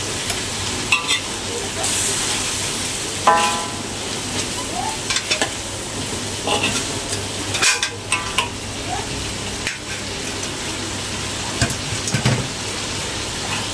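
Hot oil frying steadily throughout in a home kitchen as a dish is crisped before carrots go in, a continuous close sizzle broken by occasional clinks and scrapes of stirring against the pan, with no talking.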